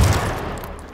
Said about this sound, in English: Who the fuck's shooting?